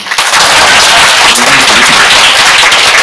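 An audience breaks into applause, a dense, loud wash of clapping that starts almost at once and carries on without a break to the end.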